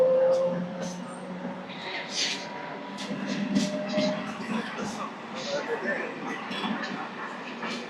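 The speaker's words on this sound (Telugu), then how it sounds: "గూడూరు నుంచి మన ట్రైన్ అయితే స్టార్ట్ అయిపోయింది" Puri Tirupati Express pulling out of Gudur station, a low rumble of the moving train with intermittent clanks and rattles, and a few distant barks mixed into the background.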